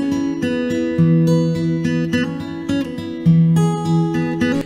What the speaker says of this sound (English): And now with that original guitar in